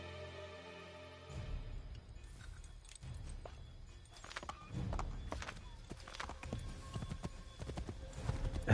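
Rhythmic clip-clop of horse hooves in Assassin's Creed III, steady and close, with faint jangling and a low background rumble beneath.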